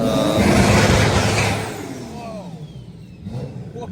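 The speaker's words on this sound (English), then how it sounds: "that sounds like a Maz-tuned anti-lag car" A Maz-tuned race car with anti-lag revs aggressively at Irwindale Speedway, a loud, close engine roar that swells early and then fades into a lower, rougher idle.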